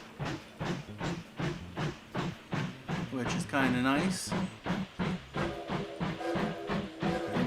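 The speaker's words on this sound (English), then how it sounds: "we can actually ride the train." A train ride in the video game Mashinky gives a steady, rhythmic chugging with a hissing edge, repeating evenly throughout while someone talks over it.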